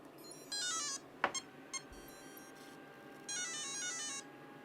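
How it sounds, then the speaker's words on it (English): A Tekno SCT410SL RC car's electronic speed controller powers on, giving a rising run of electronic tones, a sharp click and a couple of short beeps, then a second melodic tone sequence, faint over a low background hiss. "let's plug in this battery, and then we shall turn on the ESC here"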